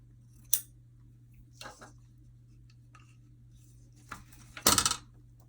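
Scissors cut a paper journal-page edge strip in half with a few sharp, close snips spaced apart, the last one a longer, louder crunching cut, over a quiet background hum.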